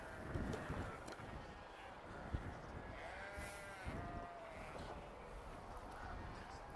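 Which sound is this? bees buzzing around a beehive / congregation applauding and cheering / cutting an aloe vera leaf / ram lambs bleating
ram lambs bleating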